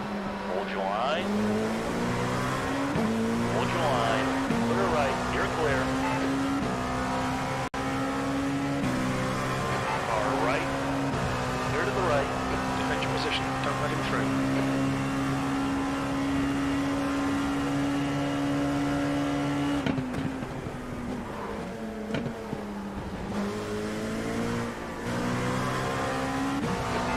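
A pack of race cars lapping Imola in a racing video game: loud sustained engine whine climbing through the revs, dropping on downshifts, with nearby cars and faint tire squeal throughout.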